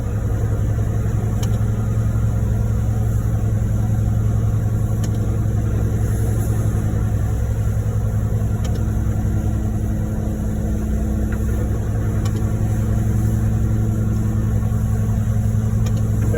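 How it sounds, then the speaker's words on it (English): A concrete pump truck's engine runs steadily while priming its pump at a residential footing pour near a lake, a constant mid-range diesel rumble close by with no talk over it. "Right now, he's just priming up his pump truck."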